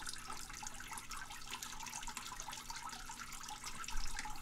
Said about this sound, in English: I've got the pump running already, and you can see how this kind of just puts water everywhere, nice and evenly distributed